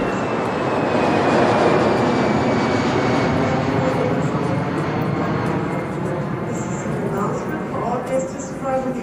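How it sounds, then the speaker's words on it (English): Aircraft engines at a busy international airport, a steady loud roar with a faint high whine running throughout, while a voice speaks over it. "Dead Zone 1, J. Stillwater International Airport."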